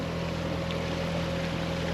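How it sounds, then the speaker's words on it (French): A sailboat runs under its Volvo Penta inboard engine on a flat sea, a steady low droning hum that holds unbroken throughout, with no voices. "j'ai rallumé le moteur, le Volvo Penta"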